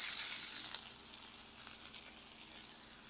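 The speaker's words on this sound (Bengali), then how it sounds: "আর দিয়ে দেবো কাঁচা পেঁয়াজ ফোড়নে কিছুই দেবো না" Raw onion frying in a small amount of oil gives a bright, hissing sizzle, loudest at first and then settling into a steady crackle.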